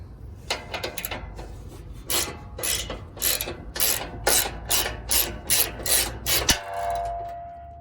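An 18 millimeter socket wrench loosens a battery bolt on a 2006 Chevy/GMC C5500 truck, ratcheting close up in a steady series of scraping clicks that stop abruptly near the end.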